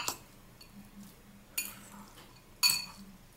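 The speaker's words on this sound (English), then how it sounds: "So then I'm going to take this and mix it with my spinach." Cooked spaghetti squash is mixed with spinach in a pan or bowl, giving three short, close clinks and scrapes of a utensil against cookware with quiet pauses between them.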